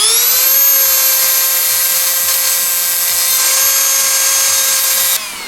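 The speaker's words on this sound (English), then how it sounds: "I'm just gonna use a power tool to cut a slit on the end of this pen right here" A Dremel rotary tool cuts a slit into the end of a plastic pen tube, producing a loud, steady high-pitched whine that runs continuously for about five seconds before cutting off, with faint rhythmic ticks underneath.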